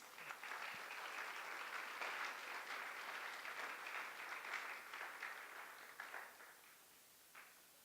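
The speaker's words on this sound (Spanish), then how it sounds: "Un aplauso a la palabra de Dios" A church congregation claps after the Gospel reading, a steady, fairly faint wash of applause. It tapers off with a few last claps near the end.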